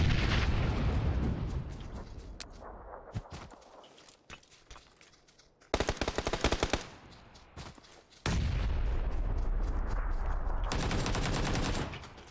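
Bursts of automatic gunfire in a battle royale shooter, loud rapid volleys separated by quieter stretches with scattered single shots and faint movement sounds.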